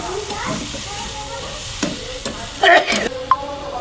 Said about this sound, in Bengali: এবারে আলু আর সোয়াবিনটা তুলে কষবো